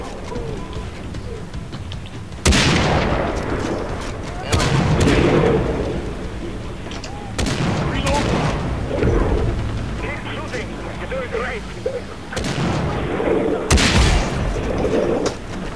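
RPG blasts and gunfire in the video game Far Cry 3 co-op campaign, several loud booming explosions spaced a few seconds apart over constant background game noise, with players talking.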